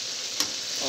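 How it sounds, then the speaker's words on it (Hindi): Chicken biryani with potatoes stirred in a pan with a spoon, a steady close sizzle with one brief scrape of the spoon partway through. "हम लोग इसको चम्मच के जरिए इसको अच्छे से मिला लेंगे।"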